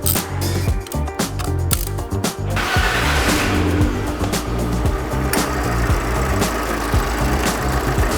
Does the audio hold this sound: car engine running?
yes